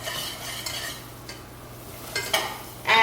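Butter stirred into hot amber caramel in a pan off the heat, a soft steady sizzle with scraping stirring strokes and a louder bubbling burst near the end, no talking.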